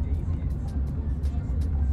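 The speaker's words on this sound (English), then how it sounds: "Traffic, traffic, traffic, but it's moving." Road traffic moving past on a busy road, a steady low engine rumble with intermittent hiss of passing cars, fairly close and continuous.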